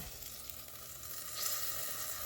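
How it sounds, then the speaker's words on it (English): Soft, steady sizzling crackles on its own, a low hiss of frying that swells slightly toward the end. "Yeah, it's sizzling."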